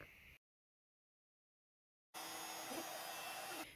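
A heat gun blows a steady, loud broadband whoosh while embossing gold powder onto navy cardstock. It runs briefly, cuts out into silence, then starts again and holds steady without talk.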